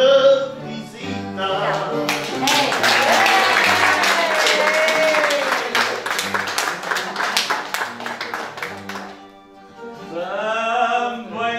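An audience claps in loud, sustained applause at a singing event held for emigrants on São Jorge island in the Azores. Voices can be heard briefly before and after.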